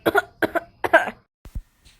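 A short burst of coughing: three close, harsh coughs in quick succession, followed by a couple of softer throat-clearing sounds.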